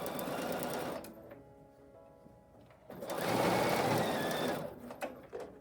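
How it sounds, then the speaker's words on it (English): A sewing machine stitching a quilt piece runs in two close bursts of rapid, even whirring, a brief one then a longer one after a near-quiet pause, ending with a few short clicks. "So I'll sew this piece on."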